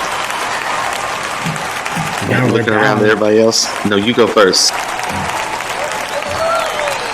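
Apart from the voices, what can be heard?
audience applauding a high school percussion show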